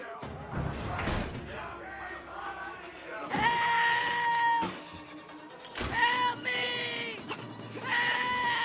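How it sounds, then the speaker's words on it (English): A monster variant in an indie horror game lets out repeated harsh, strained screams with bright tonal wails in separate bursts, loud and close, after an opening stretch of lower rumbling noise. "A once quiet variant is now screaming, alerting other variants to come forward."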